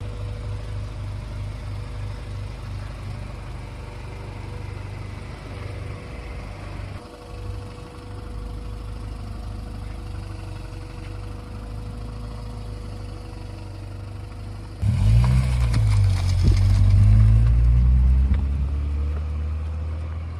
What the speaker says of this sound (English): let's take this car out and go for a little bit of a drive